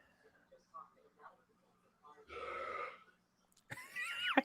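A person belches from a bathroom on a remote call during a movie watch-party, one rough burp standing out among quiet talk and soft background noise, followed by a voice.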